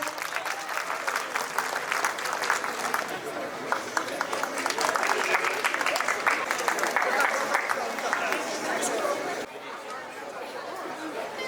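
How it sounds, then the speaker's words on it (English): Audience applause with chatter fills a school hall at the opening ceremony of a Model United Nations conference at Reliance International Academy, steady dense clapping for about nine seconds before dropping to a quieter murmur. "Let the crowd fill with claps, ladies and gentlemen."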